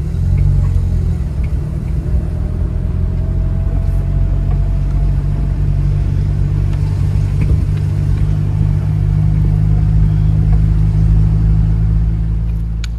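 A Mercedes 190 engine runs as the car drives in the rain, knocking and still smoking, giving a steady, loud low rumble that holds evenly throughout with no voices.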